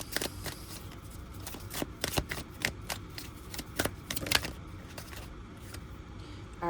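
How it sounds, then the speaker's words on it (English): Tarot cards being shuffled by hand, a run of crisp riffling flicks and slaps in uneven bursts, close and fairly quiet, with no talking. "I'm gonna go ahead and draw another card"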